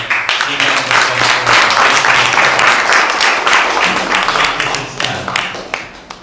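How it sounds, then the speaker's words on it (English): An audience at a business conference on outsourcing breaks into loud, sustained applause lasting several seconds before thinning out at the end, with no voice over it. "Let's give a great round of applause"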